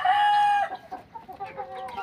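Native labuyo chickens in a backyard farm: a loud, sustained crow at the start, then a run of close, uneven clucks and murmuring calls.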